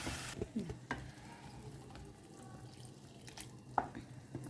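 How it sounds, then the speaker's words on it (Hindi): A spoon stirs masala paste into a simmering soya chunks curry gravy with potato and cauliflower, giving a soft, steady sizzle and bubbling broken by a few scraping clinks of the spoon, with no talking. "तो अब इसमें डालते हैं मसाला पेस्ट। अच्छे से इसे मिक्स करें।"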